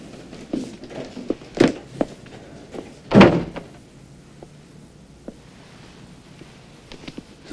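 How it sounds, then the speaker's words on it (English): A door is shut with a solid thump, followed by a sharper, louder knock of the door closing, set among soft footsteps and shuffling in a quiet room. "You shut the door."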